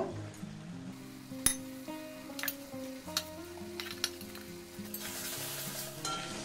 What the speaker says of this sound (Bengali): মশলাটা ভাজা হয়ে গেছে, এবার আমি এর মধ্যে আলুটা একটু ভেজে নেব।